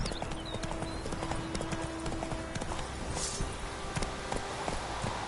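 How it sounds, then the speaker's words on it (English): Horse hooves clip-clop steadily in a PS4 video game as a horse walks along, a regular close rhythm of hoof strikes over a low ambient bed with faint tonal music. "Whoa there, Roach"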